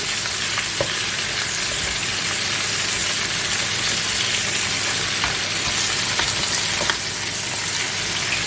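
Chicken pieces browning in a frying pan for poulet basquaise, a loud, dense, continuous sizzle with a few faint ticks and pops over it, close up and with no talk.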